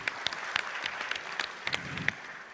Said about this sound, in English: A round of applause for Abdullah.